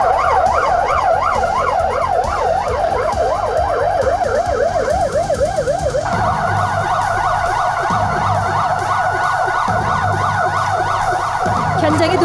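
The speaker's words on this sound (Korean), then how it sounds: "지휘 본부차와 화학차, 불절차, 구조 공작차, 구급 차량들이 지금 사이렌을 울리면서 신속하게 도착하고 있습니다" Fire engines, a chemical truck, a rescue truck, a command vehicle and ambulances arrive during a disaster-response drill in Yeongdeok, their sirens wailing continuously and overlapping, loud and close, with engine rumble beneath.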